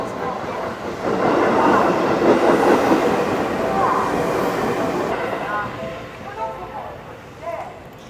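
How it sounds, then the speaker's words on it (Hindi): A slow train pulls into a station in Japan, its rolling rumble and wheel clatter swelling and then gradually fading, with a few faint tonal squeals near the end. "ट्रेन कितने स्लो आ रही है वहाँ से, धीरे धीरे धीरे"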